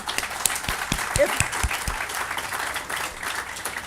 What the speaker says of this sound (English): I want to clap for the Brown Forman Foundation.